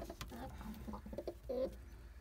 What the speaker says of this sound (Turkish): Güzel bir kuş birikimi var.